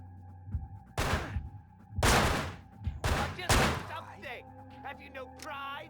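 Enemy gunfire from a window in Manhunt, four loud separate shots spaced roughly a second apart, each with a short sharp crack and quick decay, followed by quieter clattering and a voice near the end.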